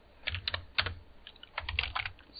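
Clicky computer keyboard typing in short, irregular bursts of keystrokes, close and fairly quiet, with brief pauses between clusters.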